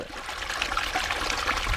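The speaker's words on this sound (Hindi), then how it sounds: "ये खेत का ही पानी कंटिन्यू बह रहा है" Rainwater flows steadily out of a flooded tomato field in Khunti, Jharkhand, a continuous close trickling and gurgling stream with no pauses.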